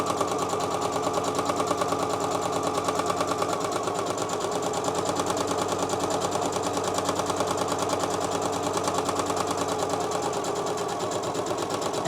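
A sewing machine runs continuously while chain piecing red and other quilt fabric for a flag quilt, its needle clattering at a fast, even rhythm close to the microphone.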